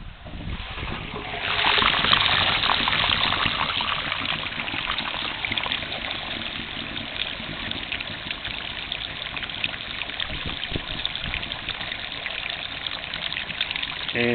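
Dirty water from cleaning a restaurant carpet drains from a carpet cleaning machine's tank through an opened valve. It makes a steady, loud rushing gush that carries on for the whole stretch.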